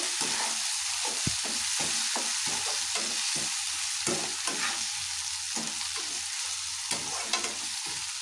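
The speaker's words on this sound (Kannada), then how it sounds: "ಟೊಮೊಟೊ ಎಲ್ಲ ಹಾಕಿದ್ಮೇಲೆ ಚೆನ್ನಾಗಿ ಮಿಕ್ಸ್ ಮಾಡ್ಕೊಳ್ಳಿ" Chopped tomatoes frying in a pan are stirred with rhythmic scraping strokes over a constant bright sizzle, the clicks and scrapes recurring every fraction of a second at close range with no talking.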